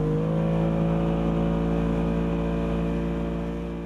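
A boat motor running at a constant pitch, a loud, close, droning hum with steady harmonics that eases off slightly at the very end, with no voices.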